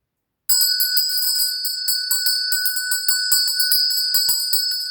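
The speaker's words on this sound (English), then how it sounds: "bell ringing" Bright metallic bells ring for a spring Ostara celebration, entering suddenly after a brief silence and then chiming in quick, overlapping strikes with sustained high ringing tones, close and loud throughout.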